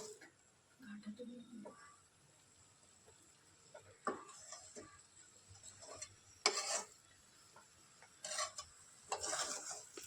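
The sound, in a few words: stirring radish bhaji in a pan, breaking lumps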